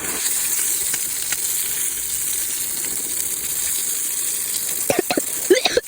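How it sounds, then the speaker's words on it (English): Water sprays steadily to rinse a rack clean, a close, constant hissing rush that carries on evenly, with a few short clatters and knocks near the end and no voices. "Time to rinse."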